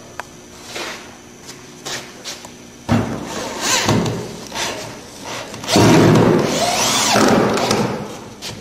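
A power drill drives screws into a wooden triangle assembly, with short bursts of close, loud whirring and grinding mixed with knocks and thuds of handling the wood.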